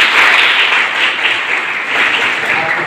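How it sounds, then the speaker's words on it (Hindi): An audience of students at a nursing college event applauds in a dense, continuous wash of clapping that stays loud and even from start to finish. "तालियां बजाएं।"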